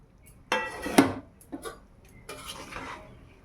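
Fish and potatoes go into a pan of simmering broth for a thin village-style fish curry, with a few sharp metallic clinks and scrapes of a utensil against the pot, close and brief.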